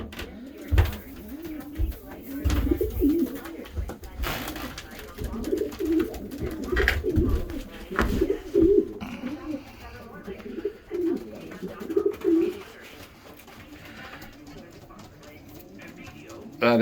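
Racing pigeons coo steadily in a cold winter breeding loft, a dense, low, throaty warble of overlapping birds nearby, with occasional wingbeats and shuffling.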